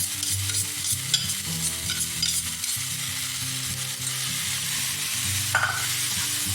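Buttery garlic sauce for shrimp scampi scraped into a hot pan, a dense continuous sizzle close up with a few soft clinks and scrapes of the utensil, no talking.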